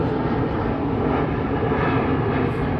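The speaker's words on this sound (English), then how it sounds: "Let me let the plane go past me, y'all." An airplane passes overhead outdoors, a loud, steady broadband engine roar that fills the whole stretch with no other sounds over it.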